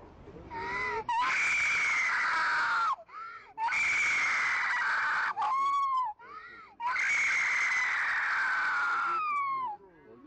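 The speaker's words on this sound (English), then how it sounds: "some internet smarty pants who added the scream, which didn't actually happen" A dubbed-in scream sound effect, loud and sustained, coming in three long shrieking bursts separated by short gaps, with a wavering pitch and nothing else underneath.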